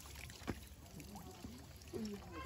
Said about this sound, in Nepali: बहिनीलाई पानी भर्ने तरिका नै थाहा रहेन त नि बाँच्न त्यो बोतल त्यहीँ छिराउनु पर्थ्यो